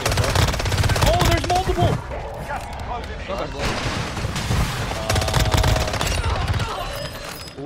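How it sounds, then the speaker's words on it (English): Rapid gunfire in Warzone Mobile, with bursts of machine-gun fire and shots from several directions at close range, under excited talk from a player. "Why am I getting shot at?"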